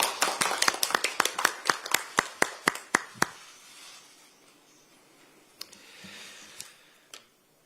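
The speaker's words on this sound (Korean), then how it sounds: "먼저 하정우 전 수석비서관을 큰 박수로 맞이해 주시기 바랍니다" A run of sharp, evenly spaced claps rings out at a South Korean Democratic Party recruitment ceremony, then tapers off into a few scattered claps against a quiet room.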